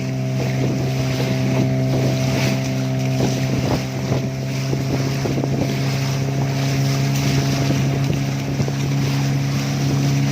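Fishing boat engine droning steadily at sea off Nusakambangan, a loud continuous low hum with strong tonal harmonics, wind buffeting the microphone and faint wave wash throughout, no talking.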